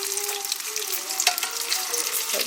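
Banana lumpia frying in oil in a pan, a loud, steady crackling sizzle close up that continues throughout with bright popping bursts.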